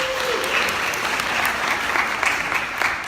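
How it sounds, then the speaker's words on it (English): An audience claps for a speaker being introduced at a student education event, a dense sustained round of applause with scattered louder claps, lasting throughout with no talking. "So let's give him a round."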